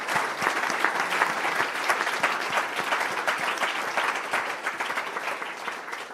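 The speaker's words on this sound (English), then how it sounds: "I would like you to give applause to my" Audience applause for a conference panel at an insurance and pensions annual event, a dense steady patter of many hands clapping throughout with no talk over it.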